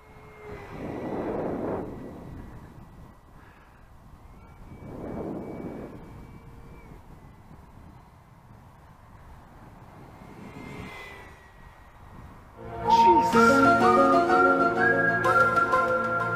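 An RC glider converted to a 70 mm electric ducted fan jet flies under throttle, its whooshing whine swelling and fading as it passes repeatedly, alone at first before louder tonal sounds take over near the end.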